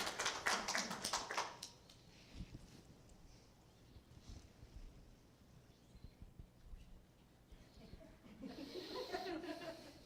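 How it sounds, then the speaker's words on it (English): Audience clapping at a Linn-Mar school board meeting during public comment: a dense, loud burst at the start that fades, then swells again near the end, with a quieter stretch of room noise and shuffling between. "Can't hear over the clapping"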